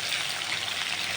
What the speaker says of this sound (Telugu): ఇప్పుడు వేస్తానండి తాలింపు గింజలు